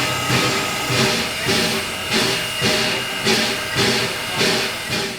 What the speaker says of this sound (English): This steam engine is Central Railroad of New Jersey number 113, built in 1923 by the American Locomotive Company.